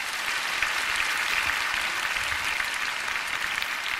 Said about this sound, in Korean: 이렇게 큰 박수로 환영해 주셔서 정말 감사드립니다